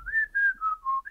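A person whistles a short, wavering four-note phrase, imitating a character whistling idly; clear, close and alone.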